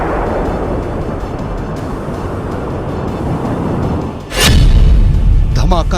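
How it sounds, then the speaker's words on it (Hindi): A loud, deep missile explosion bursts in suddenly after several seconds of steady rumbling roar, leaving a heavy low boom that lingers to the end. "धमाका नंबर 2"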